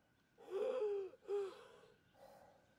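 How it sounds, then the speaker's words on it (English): Two labored, wheezing breaths drawn in with a raspy, whistling strain, followed by a softer exhale, close and fairly quiet; a DayZ character's strained breathing from toxic poisoning in a contaminated area. "your heavy breathing switches to strained breathing"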